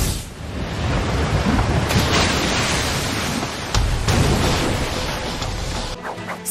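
A Naruto anime water-release waterfall jutsu effect produces a dense, roaring rush of water, loud and continuous like heavy surf, with a few surging swells before it thins out at the end.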